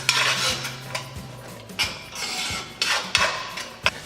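Chopped onion is stirred in a pan in a small home kitchen: a spoon scrapes and clinks against the metal in several irregular strokes, close and fairly soft, with no talking.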